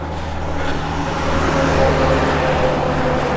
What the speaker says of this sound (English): Pausing my monologue here because of that truck.